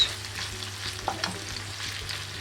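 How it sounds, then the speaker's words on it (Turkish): Homemade pepper and tomato paste cooking in a pan, a soft, steady sizzle with a couple of light spoon scrapes, faint and close with no talking. "İyice salçaların pişmesini sağlıyoruz"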